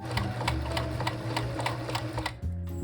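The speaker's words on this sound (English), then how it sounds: "This is my first official time sewing fold over elastic on the way you're supposed to." A sewing machine stitches fold-over elastic for a garter belt, making a steady, rapid mechanical ticking hum up close that cuts off abruptly near the end, with no talking.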